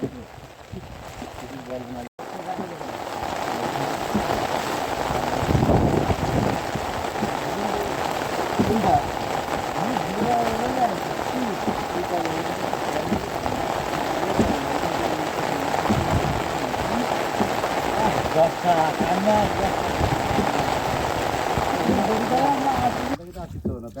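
Steady rain patters and hisses continuously over a low rumble in the Sundarbans, close and fairly loud throughout.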